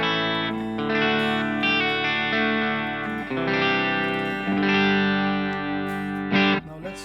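An electric guitar is played through a Fender Deluxe Reverb neural amp model in the GigFast Lite app on an iPad, giving sustained, distorted chords with a chorus-like shimmer and reverb, played continuously with brief changes between chords.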